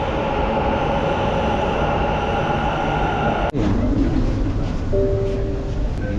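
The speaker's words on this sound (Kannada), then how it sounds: "ಅಲ್ಲಿ ಬಂತು ಮೆಟ್ರೋ ಆ ಕಡೆ ಬಂತು" A Bangalore Metro train hums and rumbles loudly arriving at a station, then a sharp clack sounds and the noise shifts as the train slows, with a faint electronic tone afterward.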